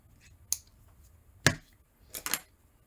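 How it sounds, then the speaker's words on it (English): Sharp shears snipping wick material for a SteamCrave Ragnar 35mm atomizer, heard as three crisp, close snips spaced about a second apart against a quiet background. "make sure you have sharp shears. Little snip, little snip,"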